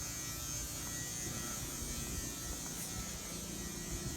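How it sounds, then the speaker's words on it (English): An oxygen generator and compressor filler for a Glasair III aircraft runs with a steady electric buzz and hum, constant and unbroken throughout. "this is an oxygen generator slash compressor filler"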